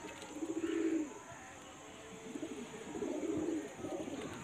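Male pigeon with a deep red eye and yellow eye ring, black-barred plumage, cooing in two low, rolling bursts close by, separated by a quieter pause.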